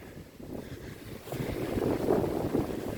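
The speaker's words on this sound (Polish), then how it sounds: "pewnie od wiatru, który teraz słyszycie" Steady wind buffets the microphone, a low rumbling roar that swells louder midway, with no voices, near an overgrown war cemetery in Dubeninki, Masuria.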